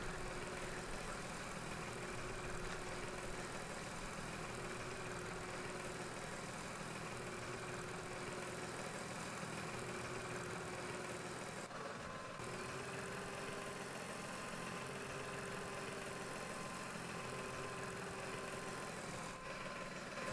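A tractor idles in the farming game Farm Expert 2017, a faint, steady low engine hum that continues unchanged, with no talking.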